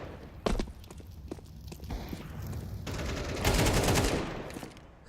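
Pistol shots in a professional Counter-Strike match, several sharp cracks and scattered single shots over footsteps and movement, then a louder burst of firing and a hissing flare near the end.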